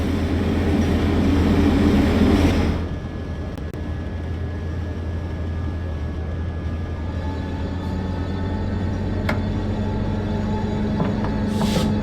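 Diesel rumble of an EMD F125 passenger locomotive in Train Sim World 5, a steady low hum with a louder swell at the start, joined by a thin whine and faint clicks as the train runs on.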